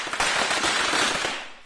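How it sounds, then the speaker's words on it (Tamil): Firecrackers bursting outdoors in the morning, a dense, continuous crackling volley of rapid pops that stays loud throughout and tails off slightly at the end. "இப்படி காலையில வெடிய போடுறானுங்க."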